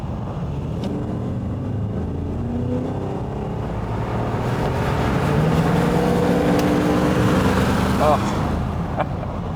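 An Aston Martin V8 revs up to around 2,000 RPM, a deep engine note swelling and building smoothly, close and loud, with a brief exclamation from a person over it.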